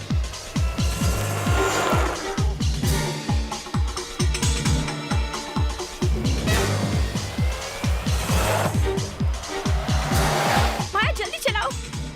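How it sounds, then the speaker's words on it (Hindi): A car speeds along in a chase in a CID crime drama, its engine roaring steadily with brief tire squeals. The drive runs continuously under dramatic background music and voices. "माया जल्दी चलाओ, सीआईडी वाले हमारे पीछे हैं।"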